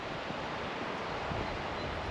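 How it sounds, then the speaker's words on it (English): A river flows along a thru-hiking route in Sweden, a steady broadband rush of water that stays even and unbroken throughout, with no voices. "The beautiful river."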